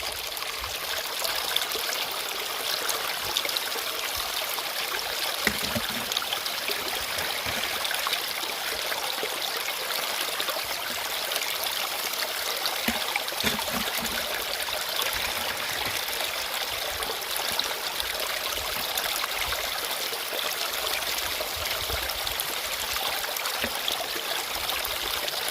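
Water runs continuously through a gold sluice outdoors, a steady close rushing and trickling with no talk over it.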